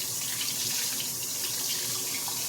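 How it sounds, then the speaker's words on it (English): Hot water runs from a faucet in a steady, close, hissing rush that continues unbroken, with no voices over it. "just let it run for a second. Maybe get some hot water going up in here."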